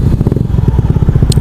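A small-engine motorcycle on a ride, heard as a loud, steady, rapidly pulsing low engine rumble with no break.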